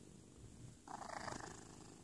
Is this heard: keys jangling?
no